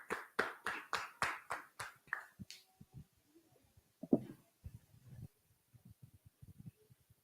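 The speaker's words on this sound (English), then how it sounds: "Clap it up." Audience clapping at a class gathering: a quick burst of sharp, rhythmic hand claps, about a dozen in a row, then dies away into scattered faint taps and small room noises.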